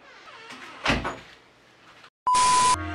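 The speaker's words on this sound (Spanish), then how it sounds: "Cierra la puerta." A door swings shut indoors with a short, sharp thud after a quiet moment, close by and clearly audible over faint room noise.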